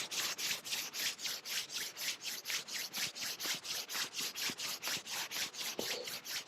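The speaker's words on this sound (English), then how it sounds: "And then rub your hands." Hands rubbing together briskly in a quiet room, a fast regular back-and-forth swishing that runs evenly throughout at close range, soft but clear.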